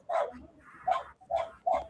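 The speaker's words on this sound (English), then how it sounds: "the neighbor's dog also wants to get in." A neighbor's dog barks four times in a steady series, fairly close and clear, each bark short and sharp, with nothing else audible.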